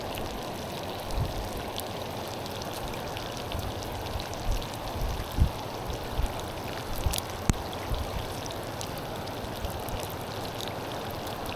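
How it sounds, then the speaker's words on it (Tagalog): Steady rain patters on a surface beside a fishing spot, a dense continuous hiss with scattered drops and small splashes throughout, moderately close and without talk. "ulan ulan pa."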